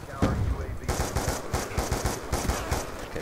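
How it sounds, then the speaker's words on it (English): Machine gun fire in the video game Call of Duty Black Ops 2: a loud, sustained stream of rapid, evenly spaced shots that rattles on steadily throughout. "I'll take this machine gun just in case."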